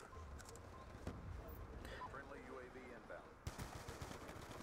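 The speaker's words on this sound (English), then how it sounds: "I got outgunned by a pistol." Black Ops 2 multiplayer match on PS3 with rapid video game gunfire, including pistol shots, popping in quick bursts under faint background game sounds.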